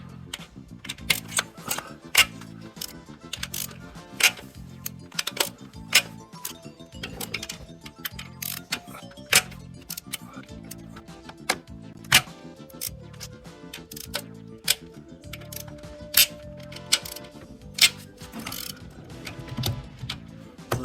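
Sharp repeated clicks of a socket ratchet loosening camshaft cap bolts on a BMW E36 M43B16 engine, steady clicking with occasional louder snaps and clanks of tools, close up.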